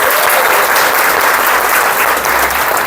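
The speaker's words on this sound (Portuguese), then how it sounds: "Agora, vocês merecem uma salva de palmas." A loud, dense burst of applause from a training-school audience fills the room, many hands clapping continuously and evenly throughout.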